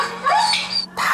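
Youngsimi, a dog kept indoors for two and a half years, lets out a short, close, high-pitched whimper broken by a brief pause.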